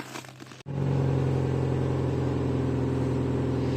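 A car engine on a frosty winter morning cuts out briefly, then catches and runs with a loud, steady idling drone and slight revving, close by with no talk.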